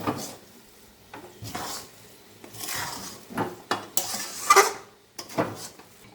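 Khichuri with sugar and salt stirred in a pot, a spoon scraping and clinking against the metal in irregular bursts with short pauses, close and moderately loud, no talking.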